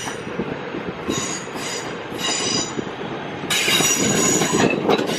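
A Class 323 electric multiple unit pulls out of Crewe station, its wheels squealing and rumbling steadily at close range, the screech rising and growing louder as it gathers pace, with no talk.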